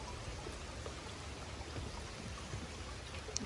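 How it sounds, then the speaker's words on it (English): Rain falls steadily outdoors onto potted plants set out on a farm. The patter is faint and even, a soft continuous hiss with no voices. "Gotta put these guys out in the rain so they can get some rainwater."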